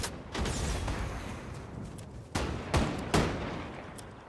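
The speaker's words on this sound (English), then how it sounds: "they're shooting another guy that just pulled up" Distant gunfire in a Fortnite match, scattered sharp shots over a steady ambient bed, with a few louder cracks clustered near the end.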